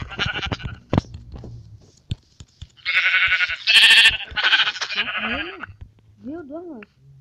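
Several sheep bleat loudly in a Portuguese-language gameplay session, clustered bleats midway followed by a couple of wavering calls near the end, with brief voice and clicks at the start.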